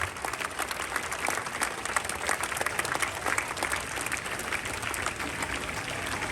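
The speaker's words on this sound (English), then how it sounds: "Can we all give him a rousing round of applause?" Students and guests at a National Science Day school gathering give a rousing round of applause, a continuous, crackling crowd of clapping hands heard from within the audience.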